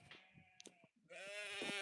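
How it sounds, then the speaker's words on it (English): A goat gives a loud, close, wavering bleat after a few short scuffling sounds and a brief pause. "Gotta get this stupid goat now starting off."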